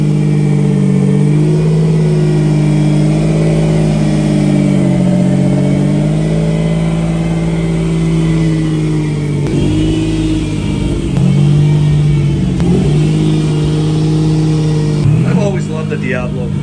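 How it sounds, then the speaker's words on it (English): Lamborghini Diablo V12, an early flip-up-headlight model fresh from service, idling after a cold start with a steady low drone and a few throttle blips near the end, with talk partly over it. "I love the sounds of a V12 Lambo."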